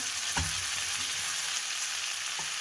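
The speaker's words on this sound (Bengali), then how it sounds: "বাটাটাই দিয়ে দিলাম। মশলাটা একটু কষিয়ে নেব।" A ground paste of ginger, tomato and green chilli fries in a pan for a jackfruit curry, giving a loud, continuous hissing sizzle broken by a couple of brief stirring scrapes.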